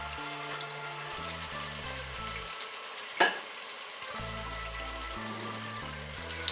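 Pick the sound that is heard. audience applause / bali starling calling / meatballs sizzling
meatballs sizzling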